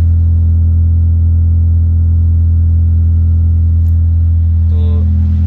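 A Honda Civic fitted with an aftermarket exhaust idles loudly and steadily, a deep droning rumble that holds level throughout, with a brief higher tone near the end.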